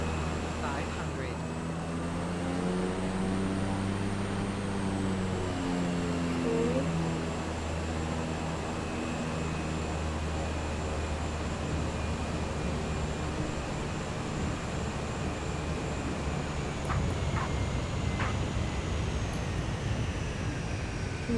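An airplane in Microsoft Flight Simulator touching down on a very short sloped runway, a continuous loud engine and wind roar with a falling tone and a rising thrust surge near the end.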